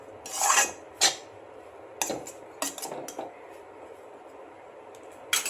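A metal spoon scrapes and clinks against a pan while stirring salted cabbage, in several short, close scraping strokes separated by brief pauses, with no talking.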